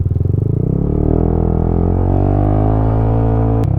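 A motorcycle engine drones loud and close as the bike travels a rough road, its steady rumble rising slightly in pitch with a brief clatter near the end.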